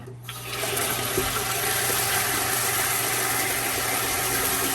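Water cloudy with rinsed aquarium sand substrate is dumped out, a loud, steady gushing rush that swells after a brief start and continues unbroken with no talking.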